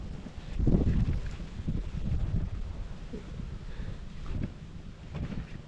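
Cold wind gusting outdoors, buffeting the microphone in uneven rumbling bursts that swell and fade over several seconds, with no voices.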